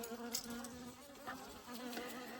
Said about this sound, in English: open this window to let some of these bees out